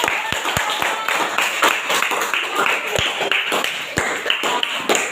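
Schoolchildren in an elementary classroom clapping for a performance; scattered sharp claps and taps over a lively room murmur, uneven and close.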